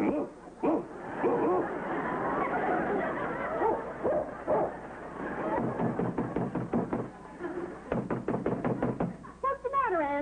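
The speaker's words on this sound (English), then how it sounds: "I've been ringing the bell and knocking on the door here." Knocking on an apartment door comes as a series of sharp rhythmic raps in quick bursts near the end, mixed with a voice talking and a caterwauling tone over a steady low hum.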